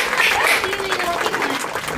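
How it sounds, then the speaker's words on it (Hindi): Applause from a small gathering greeting arriving guests at a family Rakhi get-together, a steady patter of clapping lasting the whole moment with some voices mixed in. "तालियों के साथ इनका स्वागत किया जाए।"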